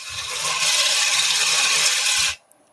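A skim cut is taken off wood spinning on a lathe, a loud, steady, hissing rasp of the tool against the turning piece that lasts about two seconds and then stops abruptly, with no talking.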